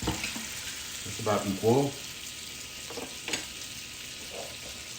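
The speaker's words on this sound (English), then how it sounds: "Get this butter nice and melted with the flour" Butter melting with an equal amount of flour in a pot for a blonde roux gives a soft, steady frying hiss with spatula scrapes, while a voice speaks briefly.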